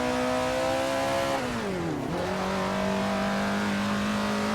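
A 1930s Maserati racing car in Assetto Corsa lapping the old combined Monza circuit, its engine droning loud and steady, dipping as it lifts off and downshifts, then climbing back up under acceleration, with no talking.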